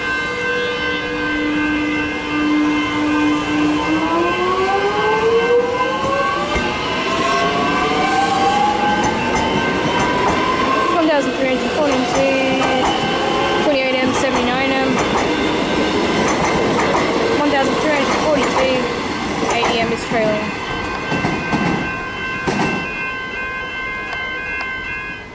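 A Melbourne suburban train led by M27 departs and rolls across the Highett Road level crossing, with rising motor whine, wheel clatter and squeal, loud and close throughout, with a voice talking over it.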